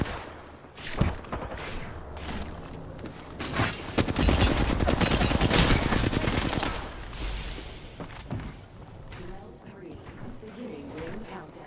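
Automatic gunfire in the video game Apex Legends crackles in rapid, loud bursts, swelling into a dense fusillade midway and then thinning out, with game voices speaking over it.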